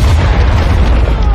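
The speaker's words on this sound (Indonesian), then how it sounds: "para musuh yang ada di sana pun langsung hancur dalam ledakan yang sangat mengedankan sekali" A loud, deep explosion in a war setting destroys enemies, rumbling continuously with heavy low-end booming, no voices, filling the whole moment.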